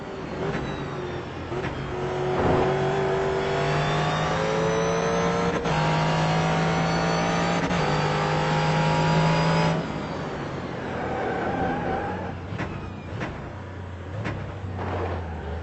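Race car engine from the iRacing sim at Laguna Seca, driven without assists, droning steadily with rising and falling revs and gear changes, loud and continuous throughout with no talk.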